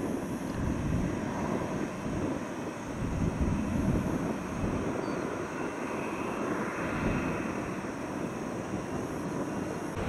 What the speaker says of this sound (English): Airbus, looks like a 321